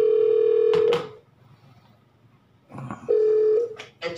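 Telephone keypad dialing tones while connecting a call into a webinar: two steady tone bursts with a short noisy pause between them, loud and close, with no voices.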